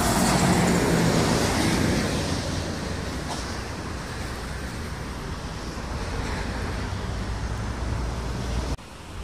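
Sumatra and Java intercity buses passing a roadside rest area, a loud, steady roar of engines and tyres that swells near the start and slowly eases, with a brief dip near the end.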